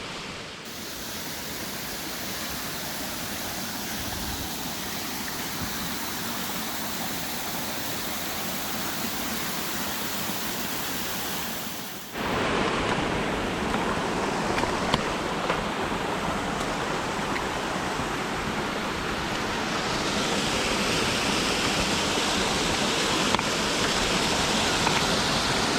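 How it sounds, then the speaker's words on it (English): Rushing water from a waterfall along a forest hiking trail on the Loyal Sock Trail, a steady broadband roar for the whole stretch that jumps louder partway through, with no voices. "So these waterfalls seem to be every couple hundred yards or so"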